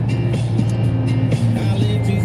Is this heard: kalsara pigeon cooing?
no